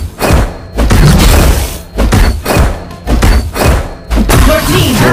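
Heavy, booming explosions and thuds come in repeated bursts as a turret is destroyed in the MOBA game Legend of Ace, loud and dense, with game effects layered throughout.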